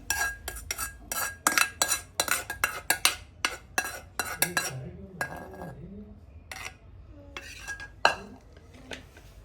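A large pot of chicken dum biryani, a kilo each of chicken and rice with frying oil added, is stirred with a metal spoon, giving a quick run of sharp scraping clinks against the pot that thins out into sparser taps.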